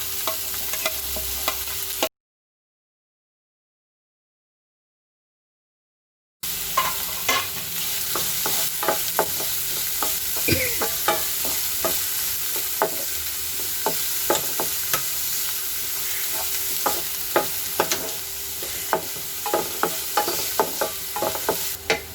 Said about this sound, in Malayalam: നമുക്കിതൊന്ന് വഴറ്റിയെടുക്കാം